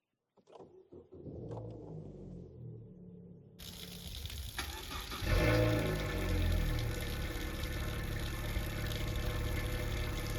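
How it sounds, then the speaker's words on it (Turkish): A Honda Civic FC5 engine idles steadily, first muffled as if heard from inside the cabin, then a door sound leads to a louder, rougher idle from outside. "Şimdi aracımızın içeriden ve dışarıdan bir çalışma sesine bakacağız."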